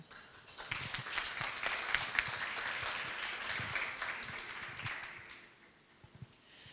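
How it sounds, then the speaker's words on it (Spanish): Audience applause at a round-table forum on women pioneers in science in Chiriquí, steady and moderately distant for about five seconds before thinning out, with a few isolated claps at the end. "un fuerte aplauso."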